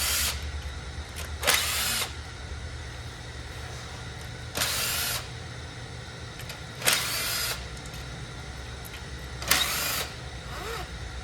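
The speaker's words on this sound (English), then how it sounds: "The valve cover is just held on by some 10mm bolts. Get a gun and start unbolting it." An impact gun spins out 10mm valve cover bolts on a 2.4L Toyota engine in four short, loud, whirring bursts spaced a few seconds apart over a quiet background hum.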